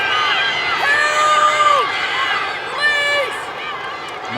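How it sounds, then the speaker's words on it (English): Stadium crowd at the Gabba roaring and cheering for the Broncos during an NRLW rugby league match, a steady loud swell of voices with a commentator talking over it. "Crowd getting behind the Broncos here at the Gabba."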